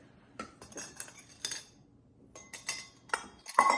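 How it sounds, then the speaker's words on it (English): A utensil stirs dry brownie ingredients (sugar, flour, cocoa powder, powdered sugar, chocolate chips and salt) in a bowl, producing sparse, close clinks and scrapes in irregular bursts separated by quiet gaps, with no speech. "mix together all of your dry ingredients"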